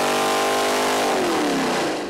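A Ford 351 small-block V8 runs hard on an engine dyno, a loud, dense roar with pitch sweeping as it loads up on the brake, heard close and alone without talking.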